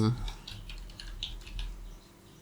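Text is typed on a computer keyboard, a quick irregular run of soft, close clicks and taps, fairly quiet and heard without talk.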